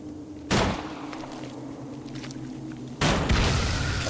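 Two heavy gunshot booms from The Mandus video game, one early and one later, each loud and close with a short decaying tail over a low droning ambience.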